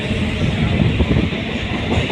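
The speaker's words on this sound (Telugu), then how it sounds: "దీని యాక్సిలరేషన్ పవర్ ఎంఎంపిఎస్ ట్రైన్లకి ఫుల్ ఉంటుంది" An MMTS suburban train pulls away from HITEC City station in Hyderabad, filling the space with a steady, loud rumble and wheel clatter heard from on board, with no talking.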